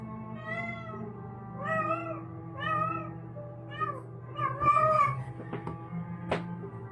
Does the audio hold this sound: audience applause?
no